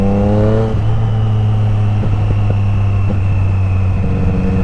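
A 2024 Triumph Street Triple RS motorcycle engine idles steadily and loudly up close, its low drone dipping and swelling with a few quick throttle blips, no voices.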